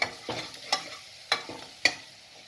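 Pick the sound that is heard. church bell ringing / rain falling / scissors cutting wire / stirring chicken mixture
stirring chicken mixture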